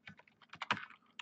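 Computer keyboard keys clatter in a short, close burst of quick irregular taps.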